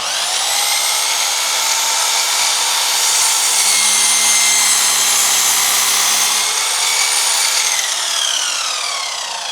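An Einhell radial saw cuts through 60 by 70 wood with a loud, steady high-pitched whine and grinding blade noise that holds for several seconds before winding down, with no talking.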